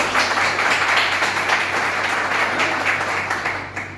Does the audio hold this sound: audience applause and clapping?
yes